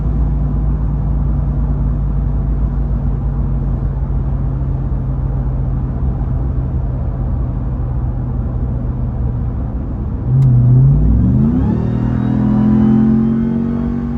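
Ram TRX pickup cruising on a highway, its engine a steady low rumble with tire and road noise throughout, then a brief rise in revs as it accelerates near the end.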